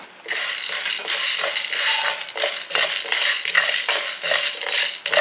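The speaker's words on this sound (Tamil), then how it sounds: "இதை ஒரு கப்பை போட்டு நல்லா வறுத்துக்கணும்" Sago flour being dry-roasted and stirred in a pan, with steady metallic scraping and clinking of a spoon against the pan in a continuous rhythm, close and fairly loud without speech.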